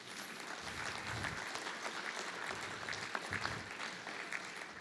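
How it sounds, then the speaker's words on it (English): An audience at a business awards ceremony in Lloydminster gives steady, sustained applause, a dense patter of many hands heard from across the room with no talk over it. "give yourselves a round of a round of applause"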